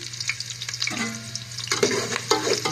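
Chopped onion and green chili hitting hot oil in a pan for a beetroot dish, a loud close sizzle that swells in bursts with stirring clatter and brief watery splashes, no talking.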